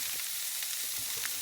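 Butter sizzling in a pan of pastrami and cabbage, a steady broadband hiss of frying with faint stirring scrapes, close and continuous with no talking.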